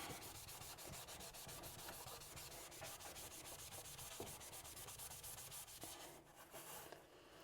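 A Brillo pad scrubs the greasy surface of a Ninja Foodi XL Pro air oven with rapid, rhythmic abrasive rubbing strokes, quiet and close, continuing steadily before easing near the end.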